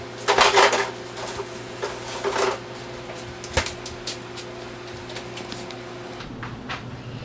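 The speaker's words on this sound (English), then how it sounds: "you start cutting off your vegetables. Well, your carrots at this time." A knife chopping carrots for red beans and rice in a home kitchen, a short burst of quick cuts near the start, then a few scattered taps and clatters over a steady low hum.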